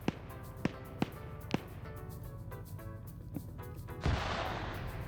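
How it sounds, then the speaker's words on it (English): Gunfire in a military video game match: several sharp, isolated shots crack out at irregular intervals, then a heavier burst like an explosion rumbles near the end. "You got shots going out."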